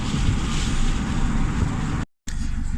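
Turbocharged Honda Civic D16 engine roaring at high RPM while breaking up, a loud rushing broadband roar mixed with wind buffeting that drops out abruptly for a moment near the end before resuming.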